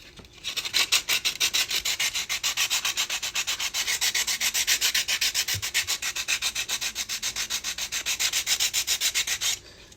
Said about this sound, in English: we're going to start sanding. I just have a freaking stick with some sticky sandpaper.